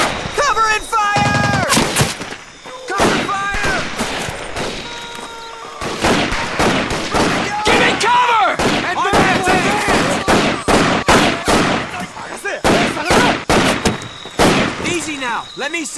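Gunfire in Medal of Honor Pacific Assault on Makin Atoll: loud, dense rifle and machine-gun bursts, rapid and continuous, with soldiers shouting over the shooting.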